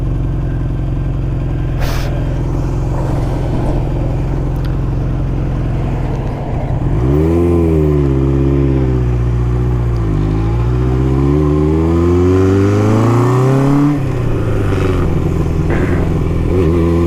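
A 1981 Honda CB900F four-cylinder motorcycle revs up loud and close, its engine pitch climbing and dipping through gears over a steady rumble.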